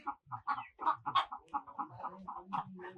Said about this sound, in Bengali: মুরগি কত মুরগি এদের